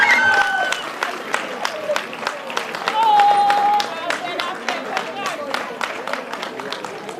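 An audience claps through an awards ceremony for Sierra Leone journalists, steady scattered applause running throughout beneath a speaking voice and a brief tonal sound.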